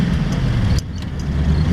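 A 1932 Ford 5-window hot rod with a flathead engine pulls along in first gear, its steady low engine rumble close and continuous, with a brief dip in level partway through.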